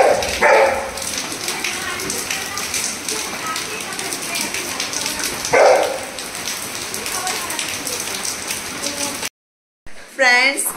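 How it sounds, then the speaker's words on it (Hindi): Heavy rain pouring down after a child's birthday party at home, a dense continuous hiss of drops on surfaces, loud and steady, with brief louder bursts and a short cut near the end. "बारिश इतनी ज़्यादा स्टार्ट हो गई ना कि बहुत ही ज़्यादा स्टार्ट हो गई है"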